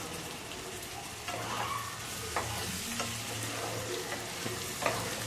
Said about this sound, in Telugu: ఉడికిచ్చి పెట్టుకున్న బఠానీలు పచ్చివి ఇవి కూడా వేసి 1 నిమిషం ఫ్రై చేసుకోవాలి.